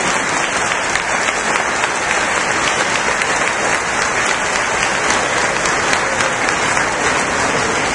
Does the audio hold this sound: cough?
no